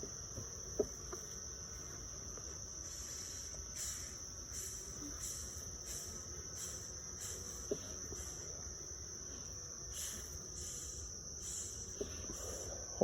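A bee swarm hums steadily inside a Layens swarm trap, a continuous high-pitched buzz with pulsing swells, heard close with a few faint clicks and taps around it.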